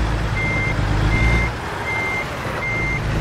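A truck's reversing alarm in American Truck Simulator while a trailer is dropped off: a loud, steady series of evenly spaced beeps over a continuous engine rumble, with no voices.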